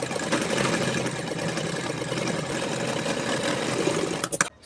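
Sewing machine running a continuous stitch along the buckram edge of a back neck design, a steady close whirring hum that stops abruptly near the end.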